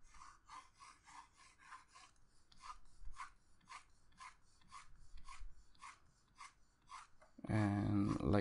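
A really soft eraser rubs back and forth across a drawing in quick, even, scratchy strokes about three per second, close and quiet. A louder rustling burst comes at the very end.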